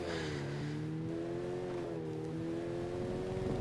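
A car drifts in the video game Gangstar New Orleans, a steady engine drone with a rising, wavering pitch carrying on evenly throughout, fairly quiet and without talk.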